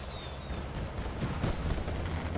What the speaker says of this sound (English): the fireworks are terrifying.